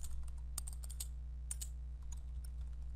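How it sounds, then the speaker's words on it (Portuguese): Keys clatter on a computer keyboard as a LaTeX theorem is typed, a quiet, irregular run of clicks over a steady low electrical hum. "Vou digitar aqui então o teorema."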